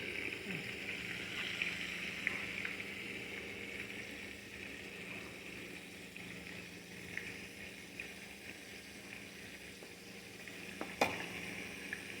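Fish frying in oil in a pan over low heat, a steady soft sizzle and crackle that runs continuously, with a brief sharp clack near the end.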